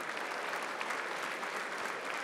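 Dense, steady applause from an audience at an economics awards evening as award winners are led off stage, continuous clapping at even loudness throughout with no voices over it.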